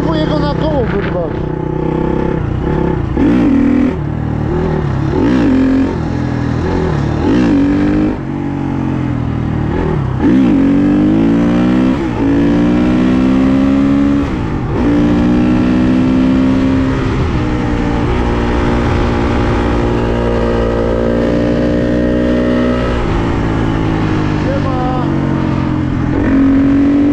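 KTM motorcycle engine revving hard with rising and falling pitch sweeps during a wheelie attempt, loud and close, sustained throughout with a person talking over it.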